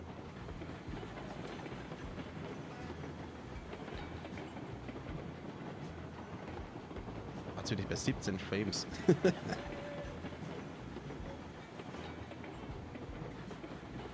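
Long freight train rumbling along the rails in the video game Railroads Online, a continuous wheel and wagon roar with a burst of clattering midway, under someone talking.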